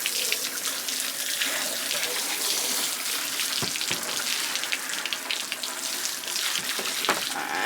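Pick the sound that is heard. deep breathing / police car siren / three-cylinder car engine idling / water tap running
water tap running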